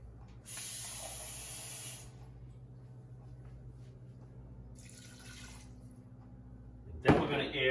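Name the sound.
water poured into cooking pot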